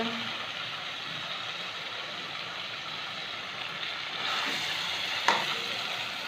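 Chicken, egg and potato sauté in hot oil in a pan, giving a steady close sizzle with a brief clink near the end.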